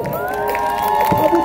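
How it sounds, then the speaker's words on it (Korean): A street busking crowd in Hongdae, Seoul, cheers and shouts together, loud and sustained, with steady tones ringing underneath. "박수 한번 주세요 여러분"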